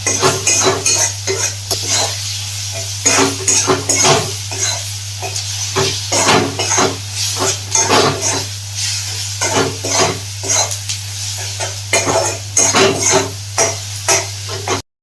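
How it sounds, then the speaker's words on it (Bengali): Spice masala fries in oil for a mustard-based khoyra fish dish, stirred vigorously with a utensil scraping and clattering against the pan in quick rhythmic strokes over a constant loud sizzle, with a low electrical hum beneath. "এবার ভালো করে মশলাটাকে মিশিয়ে কষিয়ে নেব যতক্ষণ না মশলাটা থেকে তেল ছেড়ে যায়"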